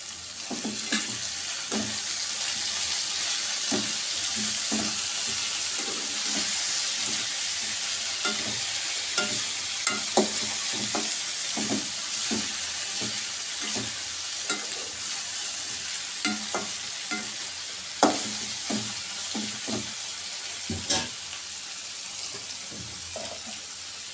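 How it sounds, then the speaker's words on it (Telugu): Brinjal (eggplant) curry fries in oil in a pan while being stirred, with a continuous sizzle and rhythmic scraping and tapping of the spoon repeating throughout. "కాసేపు కలబెడుతూ ఉండాలి మాడకుండా."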